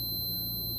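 A digital multimeter gives a continuous high-pitched continuity beep while testing a shorted bridge rectifier, a steady tone that holds for the whole moment over a low electrical hum.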